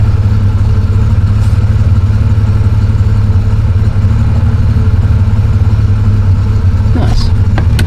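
Triumph Vitesse engine idling, a loud steady low thrum with even, unbroken rhythm, close by, with faint clicks and a brief rattle near the end.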